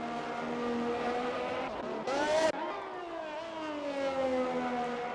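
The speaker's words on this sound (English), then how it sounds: "And here comes the second Ferrari now." A Ferrari race car in a sim racing league round at the Netherlands track roars past with a rising then falling engine whine, a sharp loud burst at the moment of passing, and other car engines droning around it.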